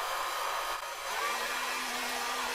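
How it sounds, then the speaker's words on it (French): A heat gun blows a steady hot-air roar onto heat-shrink sleeving over a freshly soldered joint on a 6S LiPo battery pack, held close and continuous for a few seconds with no talking. "Un petit coup de décapeur thermique"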